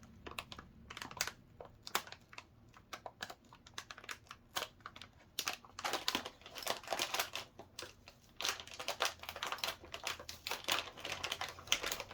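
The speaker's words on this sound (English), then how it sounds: "Gosh, this sticker comes off terribly too." A sticker is peeled off a PNY GeForce RTX 3060 XLR8 graphics card. Close, quiet crackling and ticking bursts come in irregular clusters as the adhesive tears away, and they grow busier toward the end.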